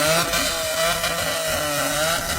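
A motorcycle engine revs in a steady, buzzing drone that rises and falls a little, loud and near, with no voices over it.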